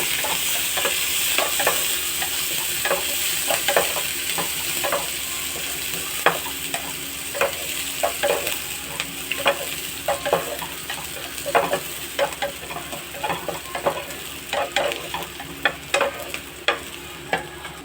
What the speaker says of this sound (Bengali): পেঁয়াজগুলো এবার লাল লাল ভাজা হয়ে গিয়েছে।